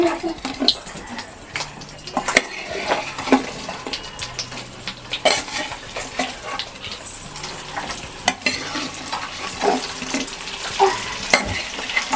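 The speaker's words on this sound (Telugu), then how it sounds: "వీటిని మళ్ళీ ఒకసారి అలా ఫ్రై చేసుకుంటానండి" Chicken 65 pieces sizzle and fry in a pan while a utensil stirs and scrapes them, giving a steady crackle with repeated clinks and scrapes, close and fairly loud throughout.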